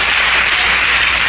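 A church congregation breaks into loud, dense applause, a close and continuous wash of many hands clapping together.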